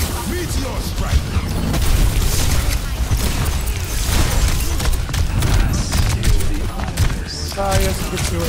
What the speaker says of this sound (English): Meteor strike.